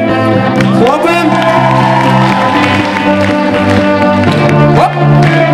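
An audience claps along, with scattered shouts and whoops, at a student debut show, mixed under loud music that plays throughout.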